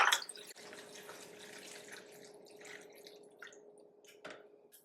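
Ice cold water with a little ice trickling and dripping over kenkey in a blender jar, faint, intermittent splashes and drips over a quiet background with a soft hum.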